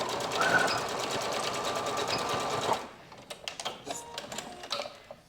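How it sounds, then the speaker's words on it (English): Sewing machine stitching over a seam on a Cassie top from several angles, a steady close whirring run of nearly three seconds that stops abruptly, followed by faint clicks and handling noises. "So maybe sew over it from a few different angles."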